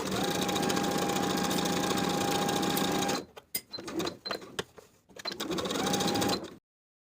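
Sewing machine stitching a strap seam along a long straight edge with a half-inch seam allowance: a loud continuous whirring run, then a stretch of short stop-start bursts, another steady run, and sudden silence.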